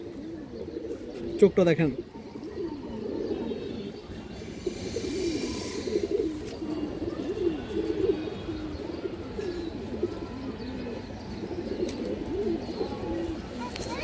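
A Kalibaga male pigeon coos in low, repeated rolling phrases, fairly quiet and close, while someone talks over much of it.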